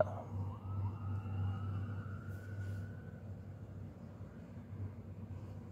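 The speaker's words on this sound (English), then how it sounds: "Sirens? Whatever. Oh, ambulance." A distant ambulance siren wails over low traffic rumble, its rising and falling tone faint and fading as the vehicle passes.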